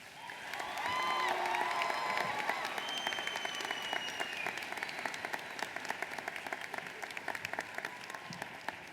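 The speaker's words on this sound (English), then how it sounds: "Please join me in a round of applause for Miss Smiley." A high school graduation audience applauds a teacher, a steady wash of many hands clapping at moderate distance that swells in the first seconds and then holds evenly with scattered louder claps throughout.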